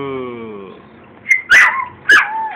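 A plump dog whimpers in a thin, rising whine, then lets out two or three sharp barks close by.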